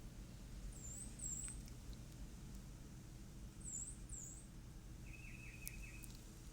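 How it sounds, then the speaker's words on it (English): Birds chirp outdoors in short high calls, a few scattered phrases and a brief trill, faint over a steady low rumble of background noise. "can you hear the birds?"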